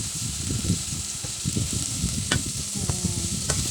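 Garlic and onion sauté in hot oil in a pan for vegetable lumpia, an even close sizzle overlaid with irregular scraping and clinking of a utensil stirring.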